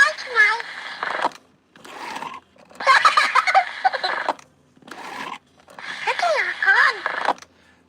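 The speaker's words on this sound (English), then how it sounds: "So this is a chatty baby I recently got and restored off of eBay." Restored vintage Chatty Baby talking doll playing back its recorded voice too fast, several short, high, sped-up phrases separated by brief pauses, fairly quiet and close.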